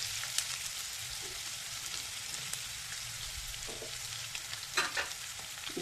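Chopped onion fries with curry leaves in a pan, a soft continuous sizzle with occasional louder crackles and pops, heard close and alone.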